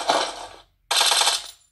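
A gun in a video game fires two quick bursts of rapid shots, each under a second long, with a brief gap between them.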